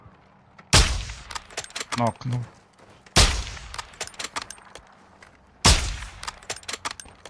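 Gunfire in Call of Duty Warzone DMZ: three heavy blasts come several seconds apart, each followed by a run of quicker, sharper shots, while players talk over the action.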